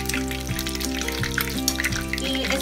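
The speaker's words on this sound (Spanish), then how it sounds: "Y al aceite. Bueno, como veis, lo tengo hirviendo" Breaded empanada, coated in beaten egg, frying in boiling oil, a steady close crackling sizzle with dense popping bubbles throughout and no talk over it.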